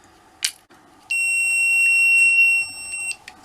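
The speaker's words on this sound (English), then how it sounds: "that beep that you heard there when I added the battery, you'll hear that every time" A few faint clicks, then a steady high electronic beep from a Sega Dreamcast memory card as its battery is inserted holds about one and a half seconds before cutting off, followed by a short quieter chirp.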